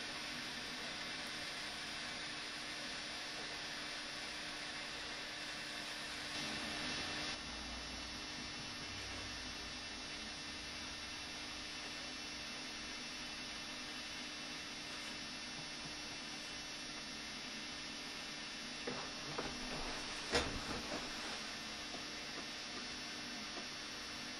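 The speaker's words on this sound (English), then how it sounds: "had to turn on the fan to ventilate" A ventilation fan running in a workshop where a knife-glove blade is being soldered, giving a steady faint hiss and hum with a few brief knocks and rustles.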